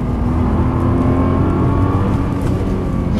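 A Nissan GT-R accelerates hard on the International Circuit at Silverstone, its engine holding a loud, steady, close drone with no break for the whole stretch.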